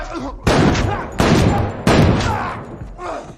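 Three heavy gunshots ring out about 0.7 seconds apart in a film scene, each a loud sharp blast trailing into a long reverberant decay, with a faint voice before the first and after the last.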